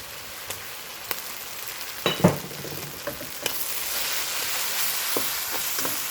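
Egg fried rice with Chinese sausage stir-fried in a hot pan, a continuous sizzle punctuated by sharp spatula clacks and scrapes against the metal, growing busier and louder in the second half, no speech.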